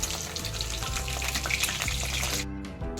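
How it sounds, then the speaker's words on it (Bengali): Vegetables such as drumsticks, raw banana, carrot and sweet potato frying in oil for sukto curry, giving a steady, close, dense sizzle that continues without talk. "বাকি সবজিগুলো পরপর ভেজে নিচ্ছি"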